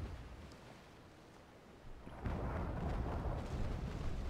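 Cannon fire from the enemy ship Bologna pounding a sailing warship in the Naval Action naval combat game, a quiet wind-like rumble giving way to a loud sustained roar of impacts and crashing water after about two seconds.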